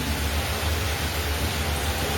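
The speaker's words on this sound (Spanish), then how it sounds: "está lloviendo" Rain falls steadily as an even, continuous hiss with a low rumble beneath it. Nothing else is heard and no one speaks.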